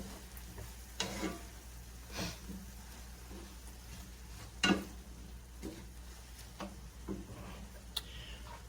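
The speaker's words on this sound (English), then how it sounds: "And the onion and celery are cooking up nicely." Onion and celery cooking in a pan, a faint, steady sizzle with occasional soft taps and clicks from stirring spread throughout.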